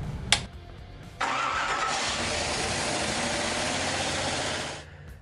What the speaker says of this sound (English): you'll be able to successfully start your engine every time with FiTech fuel injection